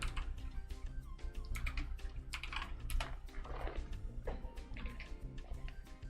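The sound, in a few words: typing a name on a computer keyboard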